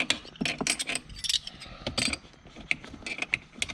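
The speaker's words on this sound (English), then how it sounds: "now let's get that 9mm socket and lock it down" A 9mm socket on a ratchet tightening the parking brake on a BMW, heard as quick, irregular bursts of close, crisp ratcheting clicks with brief pauses between strokes.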